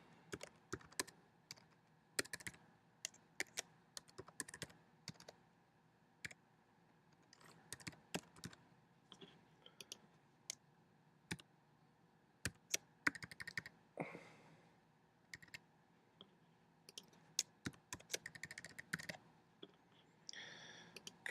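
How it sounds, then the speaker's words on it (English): Someone types an email address on a computer keyboard, a steady run of close, crisp key clicks in irregular bursts with brief pauses, no talking. "Let's type in our email."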